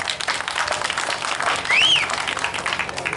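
Audience clapping at a live Tamil comedy stage drama, a steady wash of hands through the short stretch with a brief whistle-like tone rising and falling midway.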